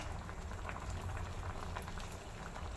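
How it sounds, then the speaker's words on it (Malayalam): Mango pulissery curry simmers at a rolling boil in a pot, giving a dense, steady bubbling and popping that stays close and even throughout, with no voices. "അതെ, നല്ലോണം തിളച്ചിട്ടുണ്ട്"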